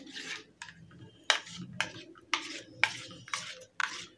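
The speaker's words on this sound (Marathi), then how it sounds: "तर आता मी हे थोडंसं हलवून घेते." A cooled milk mixture for vanilla kulfi is stirred in a pot, a utensil scraping in six or seven short, regular strokes, close and fairly quiet with no talk.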